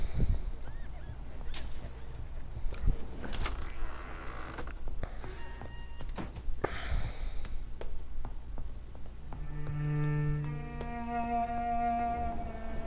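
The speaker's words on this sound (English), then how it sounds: "So what is that squeaking noise?" A butler polishing something in the game Vampyr gives off a series of scattered squeaks and creaks over a quiet room tone, with a short musical passage rising near the end.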